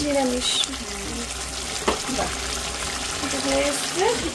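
Soybean curry frying in an oil pan gives a continuous close sizzle with stirring, while people talk over it.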